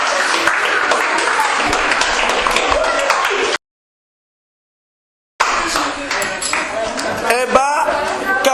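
Applause for young people at a trophy ceremony, a loud burst of many hands clapping that cuts off abruptly, then resumes with scattered claps and some clinking.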